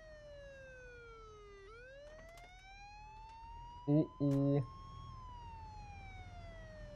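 A wailing police siren rises and falls during a chase in the video game Mafia II, sounding steadily at moderate distance while a man briefly exclaims partway through.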